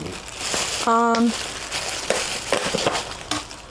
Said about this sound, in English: We are gonna chop up some lettuce.